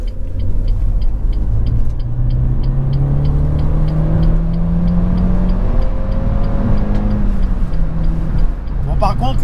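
Renault Mégane II RS Turbo 225 three-door from 2006 accelerating hard, heard from inside the cabin as a steady engine drone that climbs in pitch under muffled road rumble.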